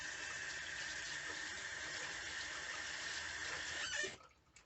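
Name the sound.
washing hands under running water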